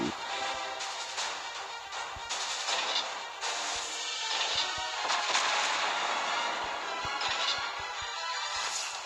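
Battleship main guns firing in the naval game World of Warships Blitz, a dense barrage of loud, booming shots cracking one after another over a constant roar of battle noise with no pauses.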